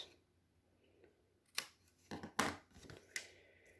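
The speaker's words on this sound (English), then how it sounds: "And then you can just cut off the extra piece like that." Scissors snipping away an extra piece of paper while making a handmade card, a few sharp close cuts in quick succession after a quiet start, with no talking.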